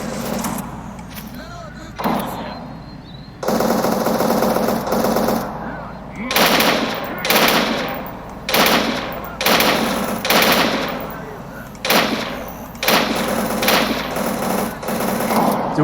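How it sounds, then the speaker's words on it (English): Bursts of automatic gunfire from bandits in the game S.T.A.L.K.E.R. Anomaly, loud repeated volleys of shots in uneven rhythm, with a player talking over the shooting at times. "Am I being shot at by another bandit?"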